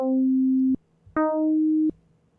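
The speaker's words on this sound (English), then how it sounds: "So now we get something that sounds more like a plucked string." Two notes from an FM synth in Caustic 3 shaped like a plucked string: each starts with a bright twang that quickly mellows into a steady, pure tone, with a short gap between the notes.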